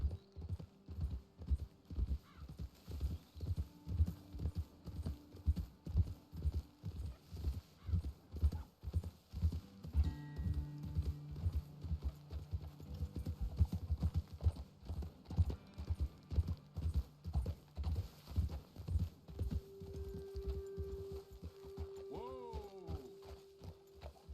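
Horse hooves clip-clop steadily in Red Dead Redemption 2, a regular rhythmic beat of several hooves on a trail, close and prominent, with a low musical drone and tones in the background and an occasional snort.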